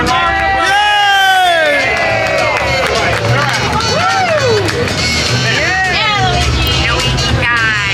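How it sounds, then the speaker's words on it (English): Crowd noise at Super Nintendo World in Universal Studios Hollywood, with cheering voices, scattered claps and excited shouts mixed with busy chatter and a voice speaking over it, loud and close. "Big round of applause for Mario."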